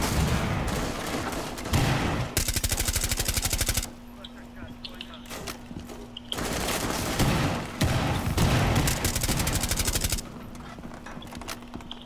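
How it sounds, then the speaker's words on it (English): Automatic gunfire rattles in loud, sustained bursts during a Rainbow Six match, with short pauses between volleys and people talking over the shooting. "Stop shooting at me!"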